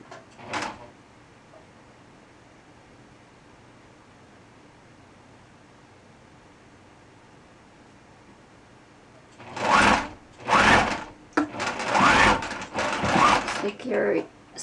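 Short, uneven bursts of a sewing machine stitching a wedding gown bodice come near the end, after a long quiet stretch with only faint background noise.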